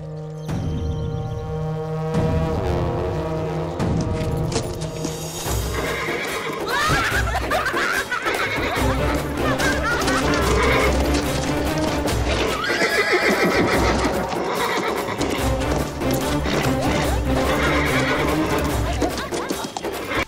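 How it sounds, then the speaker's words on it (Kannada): A horse neighs in long, loud whinnies while hooves clip-clop, mixed with music and shouting voices in a comedy film scene. "ಏನಪ್ಪ ಆಯ್ತು ಈ ಕುದುರೆಗೆ?"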